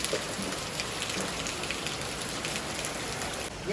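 Steady, dense rain pours down and patters on a surface, an even continuous wash with no voices.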